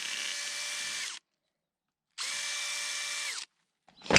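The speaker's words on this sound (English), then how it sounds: "drill a hole through here and then attach the screwy-on thing" A power drill bores a hole in two sustained bursts of about a second each, separated by silence, with a sharp clatter right after, at a homestead's off-grid water system.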